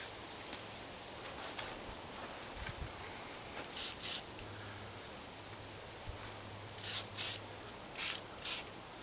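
A spray bottle mists water onto metal on a barn wood table to create a rusted finish, giving a few short, quiet hissing bursts in pairs against a soft background.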